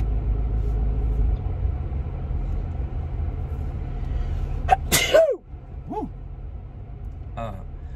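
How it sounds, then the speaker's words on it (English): A single sharp sneeze breaks out inside a rental car that smells of smoke, heard over the steady low rumble of the car in motion, followed by a brief voice sound. "I'm gonna sneeze because this car smells like smoke."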